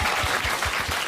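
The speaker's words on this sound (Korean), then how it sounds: "근데 박수 한번 보내주세요." A studio audience at a Korean political talk show claps in a brief, dense burst of applause, loud and close, with no voices over it.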